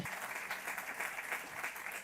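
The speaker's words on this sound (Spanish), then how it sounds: "Vamos a recibirla con un fuerte aplauso" An audience applauds to welcome a speaker at a lecture on women of the sixteenth century, a dense, even wash of clapping that sounds somewhat distant and soft throughout.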